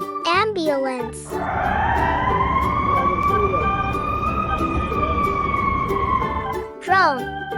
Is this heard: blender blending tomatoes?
no